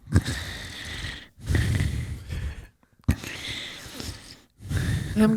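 A man imitates congested, heavy breathing as if asleep, with loud ragged snorting inhales and wheezy exhales in three or four long breaths separated by brief pauses, close to the microphone.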